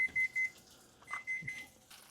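A kitchen timer emits a few short, quiet electronic beeps in a row at the start, followed by fainter chirps and small handling noises.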